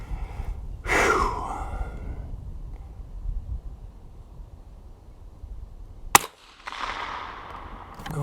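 A single sharp crack from a .22 LR rifle with a 3x9x40 scope firing Federal Hunter Match ammunition, preceded by a loud exhale and followed by quiet ambient noise and rustling.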